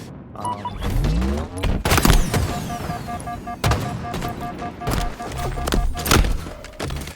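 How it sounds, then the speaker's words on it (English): Grenades are thrown and explode during a Halo Infinite Stronghold match on Live Fire, with repeated heavy booms and thuds over game noise and a few high electronic tones, loud and dense throughout. "you're giving up your position by throwing these nades"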